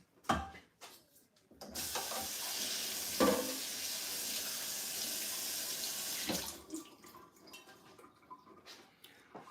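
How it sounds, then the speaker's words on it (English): A scrubbed cooking pot is rinsed under a running kitchen tap. A steady rush of water pours into the sink for several seconds, with a few clunks of the pot before and after. "Now let's rinse it off, see what happens."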